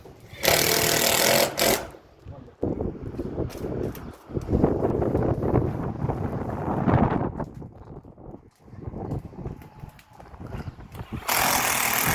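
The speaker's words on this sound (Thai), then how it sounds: "เราได้ทำการยิงสกู ยึดให้เหนียวแน่นนะครับ" A power screwdriver drives screws into metal roofing sheet over a concrete curb at height, giving loud, buzzing bursts of several seconds with short pauses and clattering between them.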